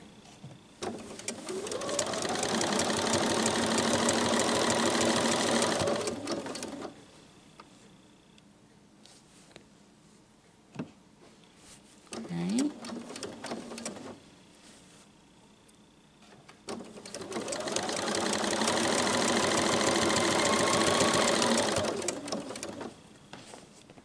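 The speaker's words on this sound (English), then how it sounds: "I'm just going to keep right on sewing, not stopping" Sewing machine stitching pleats on a festive advent calendar panel, running in two long steady bursts separated by a quiet pause with faint handling clicks.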